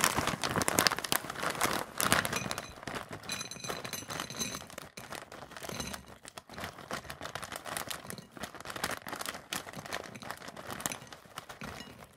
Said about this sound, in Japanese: それでは開封してみようと思います